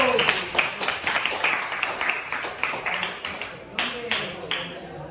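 Students applaud in a classroom, clapping hands steadily at close range with a crisp, slightly uneven rhythm that fades near the end, and voices are faint beneath it.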